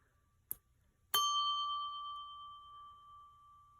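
A vintage naval brass ship's bell, used as a captain's dinner bell, gets a light tap and then one clear strike, ringing out in a bright, sustained tone that slowly decays; close and alone.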